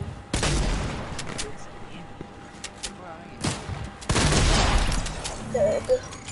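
Gunfire in a multiplayer shooter game: dense bursts of rapid shots, loud and close, in two heavy clusters with scattered single cracks between them. People talk over the shooting.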